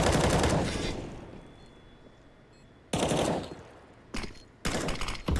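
Gunfire in a Counter-Strike match on the Vertigo map, with a long loud burst of automatic fire, then further sharp bursts after a lull, close and dominant with no clear talk.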